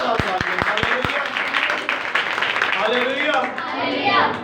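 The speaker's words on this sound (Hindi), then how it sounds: "तो उस खुदा के जलाल के लिए जोरदार तालियां" Loud congregational clapping at a church prayer meeting, starting with a few sharp rhythmic claps and swelling into a sustained wash of applause, with voices calling out over it.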